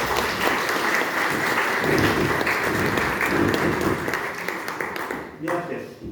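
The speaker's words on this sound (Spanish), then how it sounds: "Un aplauso para él" An audience at a railway anniversary panel discussion in Mexico applauds a speaker's introduction, with dense steady clapping that fades near the end, along with some voices underneath.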